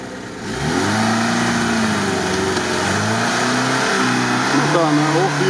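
A Lada Niva's engine revs loudly and close while driving off-road on a rough tank track. Its drone holds steady and then rises and falls in pitch as the throttle changes.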